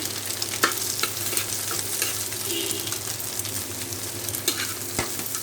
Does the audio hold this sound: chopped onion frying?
yes